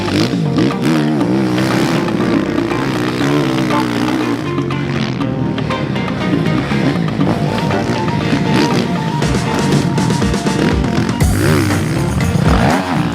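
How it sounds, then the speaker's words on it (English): A 2025 Suzuki RM-Z450 four-stroke motocross motorcycle engine revs loudly and continuously up close, with rising and falling pitch as the throttle opens and closes and wind noise over it, no talk. "So what is it like to ride the RM-Z450?"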